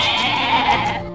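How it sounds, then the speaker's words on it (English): A goat gives one loud, close, wavering bleat lasting about a second, heard on its own without any talking. "G for goat."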